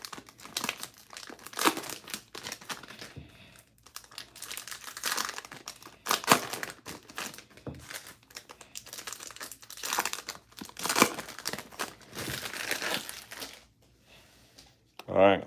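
Foil wrappers from NHL Series 2 hockey card packs crinkle and crumple close by in repeated bursts during a half-case break, while a person talks over the noise.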